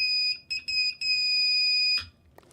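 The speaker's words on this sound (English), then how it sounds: "we are getting audio out of the buzzer" Buzzer on a homebuilt S-Pixie CW radio kit sounding a steady high electronic tone, keyed in three short bursts and then one long sustained beep before cutting off, close and clear in a quiet room.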